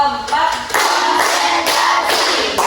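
Students in a classroom clap in unison, a loud, crowded rattle of hands repeating in quick rhythmic groups close by.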